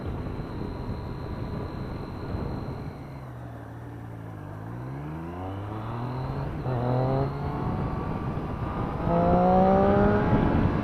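A Triumph Street Triple R motorcycle engine rises in pitch as it accelerates, drops at a gear change, then climbs again and grows louder toward the end under steady wind noise, with no speech.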